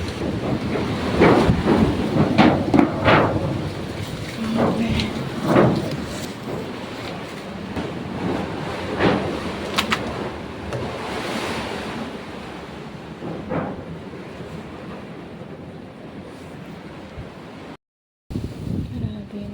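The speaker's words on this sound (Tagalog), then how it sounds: "Hindi ako makatulog sa sobrang lakas ng hangin." Strong wind and rain from Typhoon Kristen lashing the Bicol region, with loud roaring gusts and a constant rushing hiss that slowly eases. The sound cuts out briefly near the end.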